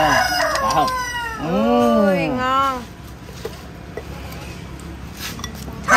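A rooster crows once, clear and fairly close, its long rising-then-falling call standing out over an outdoor meal where a fish is being grilled, with people talking before and a few faint clatters afterward.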